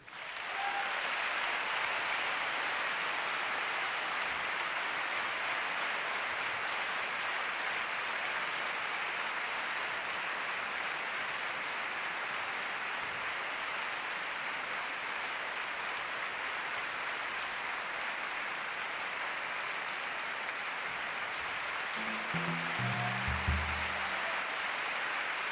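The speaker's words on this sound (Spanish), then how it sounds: "para el que pido el mayor de los aplausos de esta noche" Sustained theatre audience applause at a live jazz concert, a dense even roar of clapping that carries on without a break, slightly distant, with a brief low thump near the end.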